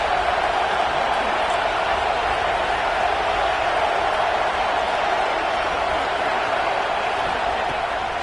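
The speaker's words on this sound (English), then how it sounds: "this crowd is at fever pitch" A packed football stadium crowd at a Nebraska versus Arkansas game roars in a steady, dense wall of cheering late in the first half with the home team in the red zone, loud and unbroken throughout with no clear talk.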